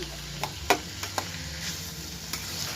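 Onions sautéing in a pan give a low steady sizzle, broken by several sharp scrapes and clacks from stirring against the pan, close and without speech.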